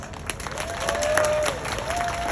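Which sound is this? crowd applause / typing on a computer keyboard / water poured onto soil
crowd applause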